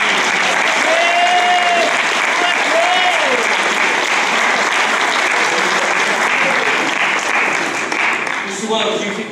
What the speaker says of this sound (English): Wallace, a round of applause.